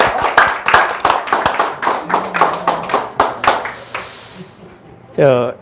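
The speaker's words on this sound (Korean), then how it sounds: "박수로 환영해 주세요." An audience claps rhythmically to welcome a lecturer, close and loud, with clear individual claps that taper off before a voice speaks briefly at the end.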